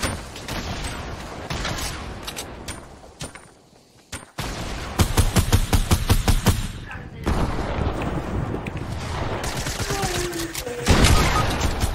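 Rapid bursts of video game gunfire crackle in dense volleys with a few booms, nearly continuous apart from one brief lull, as a voice talks over the shooting.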